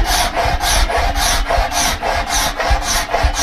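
Steady rhythmic scraping of a glass shard across wood to remove sanding marks, repeated back-and-forth strokes with a dry, rasping texture, close and alone.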